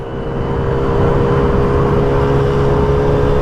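A Sym Symphony 50cc scooter ridden through Belgrade traffic at full throttle, its small engine holding a steady, loud droning whine with wind noise close up, with no talking.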